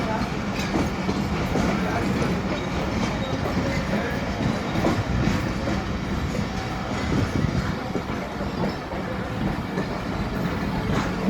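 Train rumbling at Raiwind railway station in Pakistan, a steady close clatter of rolling wheels and wagons that continues throughout without spoken words.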